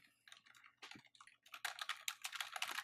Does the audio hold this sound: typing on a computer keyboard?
yes